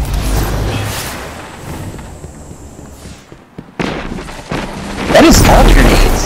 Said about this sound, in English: That is all grenades.